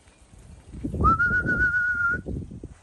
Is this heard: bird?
yes